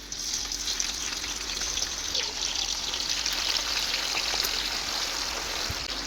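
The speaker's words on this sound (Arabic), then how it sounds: "رح نقلي البطاطا" Potatoes frying in a pan of hot oil set over a gas flame, giving a steady, dense sizzle and crackle that holds at an even level throughout with no talking.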